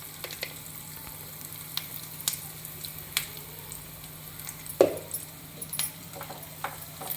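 Curry leaves and turmeric sizzle in hot oil, a quiet steady frying hiss broken by sharp pops and crackles, with one louder spit near the middle and occasional faint clinks.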